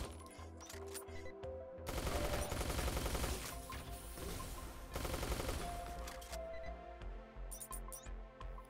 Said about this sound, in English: Throw in a grenade there for good measure.